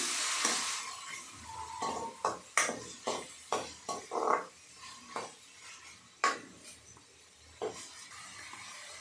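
Small pieces of chopped tomato fry in a pan while a utensil stirs them, making irregular clinks and scrapes against the metal over a faint, soft sizzle, with no voices.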